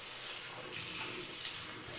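Hot water running from a tap into a sink for face washing, a steady broadband splashing rush, close and continuous throughout.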